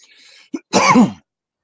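A single throaty cough or throat-clearing, loud and close, preceded by a short grunt and faint background noise, then silence.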